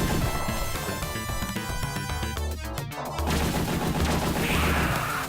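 Video game gunfire from Aliens: rapid bursts of weapon fire set against loud game music and effects, continuous and dense.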